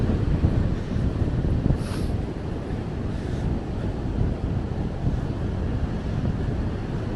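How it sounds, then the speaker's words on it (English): Ocean surf rolls onto a rocky beach on Jersey, a steady broad wash of waves close by, with wind buffeting the microphone throughout and no talking. "I love the sound of the waves, the ocean."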